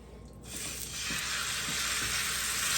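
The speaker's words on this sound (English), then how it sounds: "Just what you want to hear, a nice little sear going on there" Loud sizzling erupts as a pork chop hits a hot pan, a steady hissing crackle of searing that builds and holds, close up with no voices.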